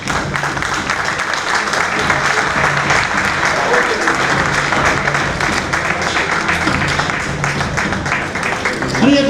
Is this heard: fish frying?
no